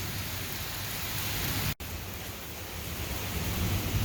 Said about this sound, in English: So we definitely got some much needed rain.